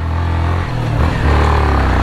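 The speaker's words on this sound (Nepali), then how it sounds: "तर मेरो बाइकले चाहिँ तान्छ होइन" A motorcycle engine labours uphill on a rough, broken road near Marangkot, Palpa, its low steady drone dipping briefly then surging again as it pulls, loud and close with no voices.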